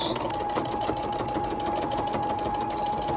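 A sewing machine back-stitches a fabric face mask in one continuous close run, a rapid even chatter of needle strokes over a steady motor hum.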